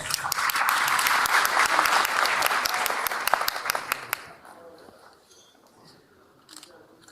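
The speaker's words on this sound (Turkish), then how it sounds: "Alkışlarınızla birlikte." An audience at an award ceremony applauds a car service business, a dense burst of clapping that holds for about four seconds and then quickly fades to a quiet room with a few stray claps.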